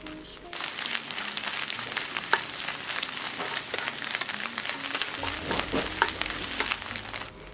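Chunks of steamed bun hitting a hot wok with set scrambled egg, a loud dense sizzle that jumps up as they land and keeps crackling steadily, with scraping stir strokes near the end.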